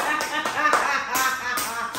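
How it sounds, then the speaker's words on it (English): Several people clap in a loose rhythm of roughly five distinct bursts, moderately loud and close, with faint voices underneath. "Everybody clap for him."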